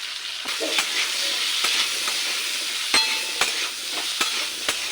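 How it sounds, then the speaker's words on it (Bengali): Potatoes frying in hot oil with salt and turmeric, a steady close sizzle running throughout, broken by sharp scrapes and knocks of a spatula stirring in the pan. "ওই তেলটার মধ্যে আলুটাকে ভেজে নেব"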